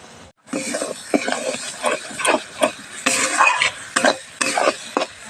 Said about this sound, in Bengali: এবার এটা সুন্দর করে ভেজে নেব